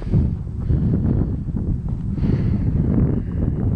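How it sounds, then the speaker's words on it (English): Wind buffeting outdoors, a steady loud low rumble across the microphone with no pauses. "the wind that blows through my hair"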